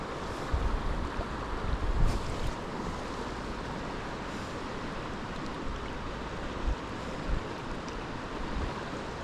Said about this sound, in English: It's quite a bit of wind, actually.